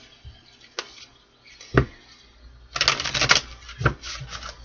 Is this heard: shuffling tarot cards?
yes